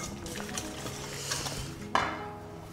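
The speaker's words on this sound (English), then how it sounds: "Bring that back to you, give that a good whisk." A whisk scrapes and stirs lemon juice and olive oil in a bowl, with quiet irregular swishing and a sharp clink of metal against the bowl near the end.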